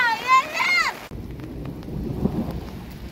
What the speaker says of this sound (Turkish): Şu an yağmur var. Biraz önce çok şiddetliydi.